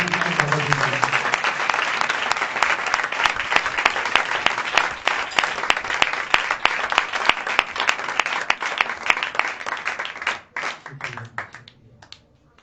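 Sustained, vigorous applause fills a church gathering at a New Year's Eve service to welcome the pastor, many hands clapping steadily and loudly before thinning to scattered claps as a voice begins near the end.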